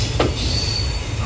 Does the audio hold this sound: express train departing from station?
yes